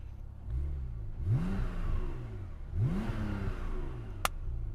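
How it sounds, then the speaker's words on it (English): A Porsche 911 Turbo's exhaust revs twice in strong rising sweeps, each climbing then falling back to a steady idle, with a short sharp click near the end. "let's hear what this exhaust sound like"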